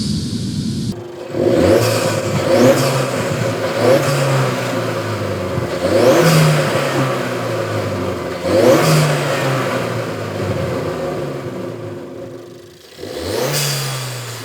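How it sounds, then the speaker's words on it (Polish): Small turbocharged Suzuki engine fitted with a cone air intake, revved repeatedly in loud rising pulls with a whirring turbo spool and intake whoosh, easing off between each of about four bursts. "Po wciśnięciu mocniej gazu słychać jak stożek zasysa powietrze i rozkręca się turbo."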